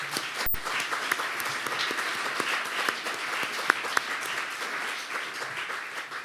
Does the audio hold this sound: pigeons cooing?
no